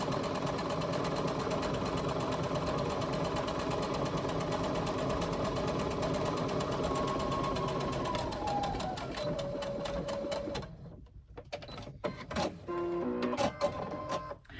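A sewing machine runs a 3/8 inch center seam on a hobo and shoulder bag, a steady fast close whir that slows near the end, then stops amid small handling noises.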